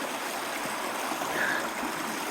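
Creek water rushes steadily through a gold-prospecting 8-inch sluice box, a close, continuous broadband wash with no pauses.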